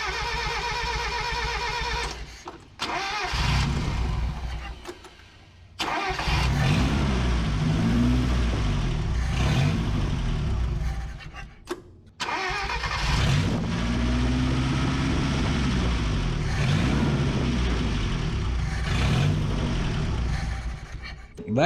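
A 1984 Mazda U-Haul truck with a troublesome carburetor cranks, catches and revs in loud, rough bursts, cutting out twice before restarting and revving again, with people talking over the engine.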